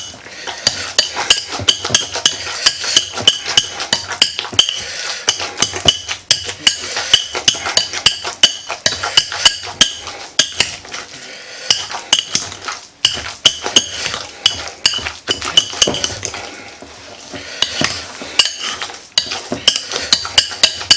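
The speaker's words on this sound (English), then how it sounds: "I'm just going to scrape the bottom every once in a while and get it all broke up." Potatoes are mashed and scraped in a pot, making a long, busy run of rapid metallic clacks and scrapes from the masher against the bottom, loud and close, with only brief pauses.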